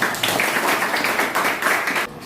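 Classroom group claps together in a short burst of hand clapping, several pulsing waves over about two seconds, moderately loud.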